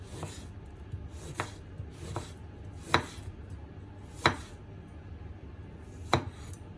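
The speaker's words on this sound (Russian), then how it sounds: "Я буду нарезать вот так, тоненькими дольками." A knife slices apples and a pear into thin wedges on a cutting board, each cut landing as a distinct tap, about seven in all, spaced roughly a second apart, close and fairly crisp against a quiet kitchen background.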